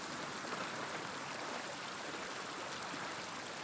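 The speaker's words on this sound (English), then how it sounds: "Waterfall." Steady rushing water from a waterfall in a forest setting in the video game Pentiment, a constant broadband wash of even loudness with no voices over it.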